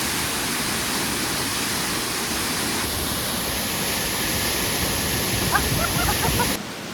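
The large Lata Kinjang waterfall near Tapah in Perak, Malaysia, roars as a dense, continuous close wash of falling water that fills the whole clip at constant loudness.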